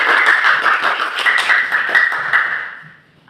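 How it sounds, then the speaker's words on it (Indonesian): Classroom applause from a group of pupils: dense, fairly close hand clapping that holds steady for about two and a half seconds and then fades out quickly, with no talking over it. "Tepuk tangan untuk kita semua."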